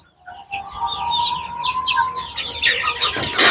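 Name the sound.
desi chickens clucking on a rooftop farm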